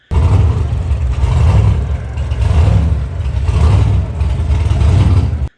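A modified 1934 Ford pickup engine fires up in drag strip staging lanes, a loud, deep rumbling idle that pulses in heavy waves and then cuts off abruptly.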